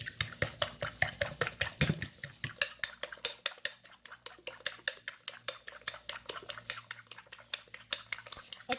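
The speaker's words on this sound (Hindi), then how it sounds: "इसको मैं तीनों चीज़ों को अच्छी तरह फेंट लेती हूँ।" Rapid, steady clinking strokes of a utensil whisking leftover rice, eggs, masala and half a teaspoon of salt together in a bowl, close and fairly loud, with a faint low hum underneath and no talking.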